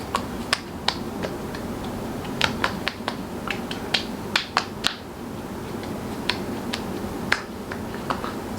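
Fingertips pat serum lightly onto facial skin in quick, irregular little taps, soft and close, in a quiet room.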